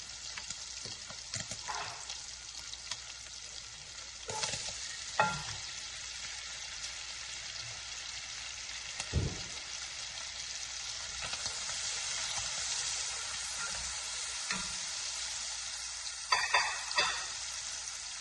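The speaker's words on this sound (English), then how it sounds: "And I'm going to put the onion in and cook that for about 5 minutes." Chopped onion frying in a pot, a steady bright sizzle close by, broken by scraping stirs and occasional utensil knocks.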